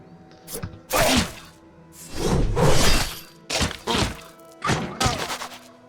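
Combat impacts in the video game Stoneshard as an enemy strikes the player character: several heavy thuds, cracks and shattering hits arrive in uneven bursts, loud and close, with no talking.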